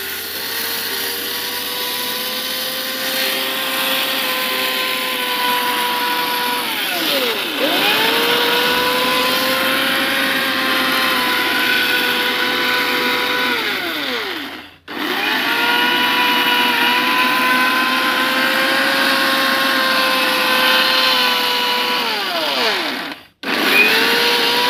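A mixer grinder runs loud and steady, grinding soybean pakora batter for a doi soyabean pakora, with its motor pitch sagging and recovering under load, then two abrupt stops and restarts in a continuous whirring run with no voices.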